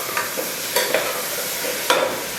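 Green chillies, onion, cashews and raisins fry in oil with a steady close sizzle, with a few light stirring clicks against the pan.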